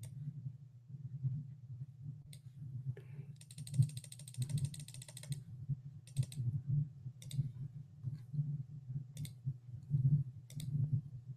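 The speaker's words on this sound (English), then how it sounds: "Let's click onto the 2-hour chart here." A computer mouse clicks sharply a handful of times at uneven intervals over a low hum, close and fairly faint, with occasional quiet talking.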